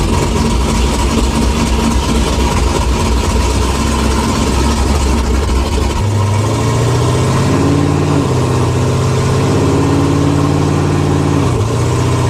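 A Camaro ZL1's engine idles loudly and roughly up close, a deep lumpy rumble that drops into a lower, steadier burble halfway through with a few small blips of the throttle.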